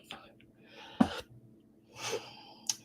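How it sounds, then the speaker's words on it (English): A person gives a short, soft sneeze with a sharp intake of breath before it, followed by quiet breathy sounds, faint and close indoors. "I'm going to sneeze."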